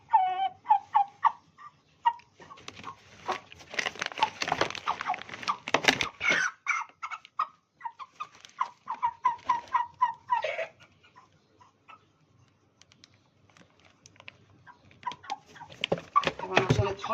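White broiler chickens cluck and squawk in short, irregular bursts while being weighed on a scale, loud and close, with quiet gaps between calls and some handling clatter.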